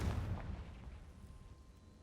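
A Confringo blasting spell goes off in Hogwarts Legacy with a single heavy, booming explosion that hits hard at once and rumbles away over two seconds.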